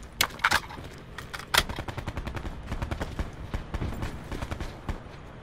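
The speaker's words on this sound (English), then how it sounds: "What y'all shooting at?" Rapid bursts of video game gunfire crack close and loud, sharp shots and quick volleys repeating throughout with a few heavier blasts near the start.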